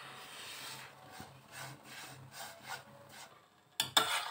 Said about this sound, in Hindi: इसको हम सूजी को भी रोस्ट कर लेंगे, चलाते रहेंगे साथ साथ ताकि ये बर्न ना हो।